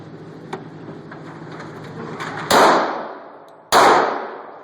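A Smith & Wesson M&P 40 pistol fires two loud, sharp shots at a gun range, about a second apart. Each crack rings out with a reverberant decay over a low background hum.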